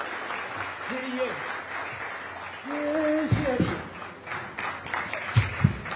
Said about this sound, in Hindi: वही तालियां रुकनी नहीं चाहिए मेरे ख्याल से।